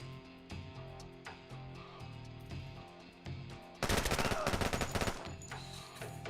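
Automatic gunfire in the video game Door Kickers 2 breaks out as a loud, rapid burst of shots lasting over a second, after scattered quieter single shots over a steady background music bed.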